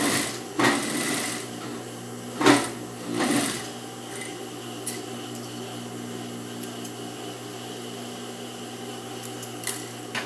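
A sewing machine runs a shoulder seam joining front and back of a yoked dress, a steady close mechanical whir with a few brief louder bursts and knocks from handling the fabric.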